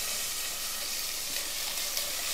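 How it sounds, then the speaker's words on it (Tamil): About 150 grams of chopped shallots, added with bay leaves, sauté in a pan for a Tamil mutton kuzhambu. A steady, close, bright sizzling hiss runs unbroken throughout, with no speech. "வெங்காயம் வதங்கட்டும்."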